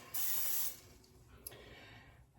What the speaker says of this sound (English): just put a little squirt in each one, and they come out super clean every time